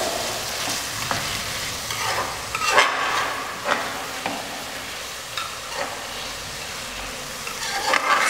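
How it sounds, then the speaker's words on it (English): Vegetables are stirred and tossed in a hot pan for restaurant-style veg fried rice, a soft sizzle with repeated scraping and clattering strokes of the spatula. "Hardly 2 to 3 minutes stirring work is required here."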